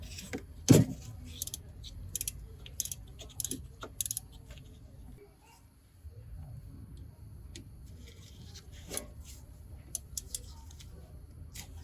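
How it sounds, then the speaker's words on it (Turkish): Two Torx T35 screws are undone on the rear electric parking brake motor during a home brake pad change, giving scattered metallic clicks and tool clinks, one sharper clank early on and a brief quiet pause midway. "Elektronik el freninin motoru için arkada bulunan iki tane 35T olan vidaları söküyorum"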